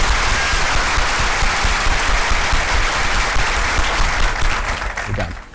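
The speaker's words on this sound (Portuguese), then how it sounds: "Uma salva de palmas," A lecture audience applauds loudly with dense, continuous clapping that fills the room and then tapers off abruptly at the end.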